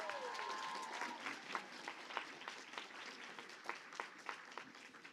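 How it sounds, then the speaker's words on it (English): Scattered audience applause at a hackathon's final presentations, a modest group clapping in a room, quiet overall with distinct individual claps standing out as it gradually thins. "Can I get a round of applause for all of you?"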